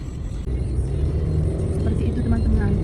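Congested return-trip traffic heard as a steady low rumble of car engines from inside a vehicle, continuous and moderately loud without distinct passes.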